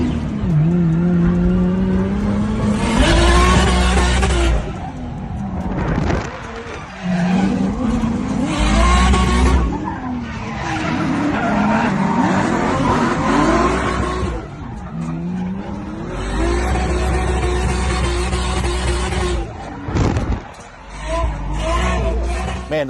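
A drift car drives hard with long, loud tire squeals and a revving engine, the screeching rising and falling in waves, with voices mixed in under the noise.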